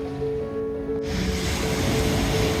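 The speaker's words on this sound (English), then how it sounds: "Waves coming in to the little beach." Surf rolls onto a small beach at Menton, a broad continuous wash of waves that swells louder after the first second, with wind over the microphone and no voices.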